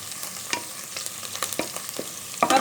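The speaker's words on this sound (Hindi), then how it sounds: "ये हम लोगों ने 1 अदद प्याज कुकर में डाल दिया है और अब इसे हम लाइट ब्राउन करेंगे।" Chopped onion and cumin seeds frying in oil in a pressure cooker for dhaba-style daal, a steady close sizzle with light stirring scrapes.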